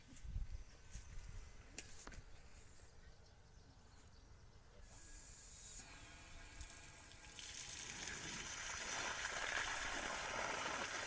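Running water hisses from the tap of a village water supply fed by a 2-horsepower solar-powered pump, quiet at first and then swelling into a louder, steady rush, with someone talking over it.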